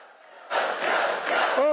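A large crowd at a Joe Biden campaign rally in Raleigh, North Carolina, bursts into loud, sustained cheering and shouting after a quiet start, swelling in waves, with a voice briefly rising at the end.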